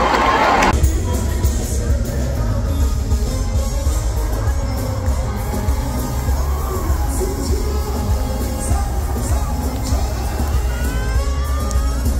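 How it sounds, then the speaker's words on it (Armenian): An audience cheers loudly and steadily after a sharp opening burst, a dense crowd roar filling the space for the maestro, with scattered yells and whoops rising above the sustained noise. "Բարձր ծափարեք մայստրոին։"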